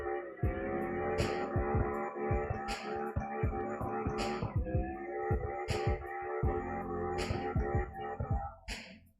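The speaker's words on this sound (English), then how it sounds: "I'm just basically drifting, just regular drifting." Engine revving and tire squeal from a car drifting in the racing game CarX Drift Racing Online, the motor rising and falling in rhythmic pulses as the car slides, with sharp bursts of screech at intervals.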